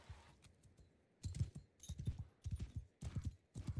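Cavalry horses advance in the medieval battle game Mount & Blade II: Bannerlord, their hooves clip-clopping in quick rhythmic bursts that come in repeated clusters, moderately close and alone without talk.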